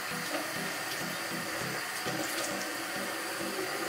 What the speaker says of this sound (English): I'm gonna wet my face first.